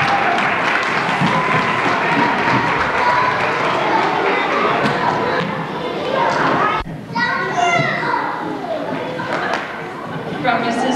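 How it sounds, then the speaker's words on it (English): School assembly audience of children cheers and applauds for kids who performed, a dense, lively burst of clapping and young voices shouting together, followed by scattered chatter and movement as the noise settles. "Let's give them the awesome cheer."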